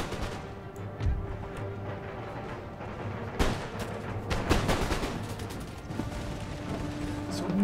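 Musket volleys and scattered gunfire from an 18th-century battle in Empire: Total War, with sharp cracks over a steady din of battlefield noise, including one heavy burst near the middle.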